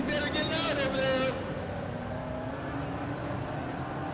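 Stock cars roar around the Redwood Acres Raceway oval, a loud, continuous engine drone with a brighter surge in the first second, heard beneath a trackside announcer's voice and crowd noise.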